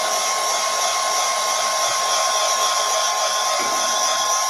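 A hair dryer blows steadily and close by, drying paint on a shabby chic lantern, a continuous loud whoosh with no pauses and no talk.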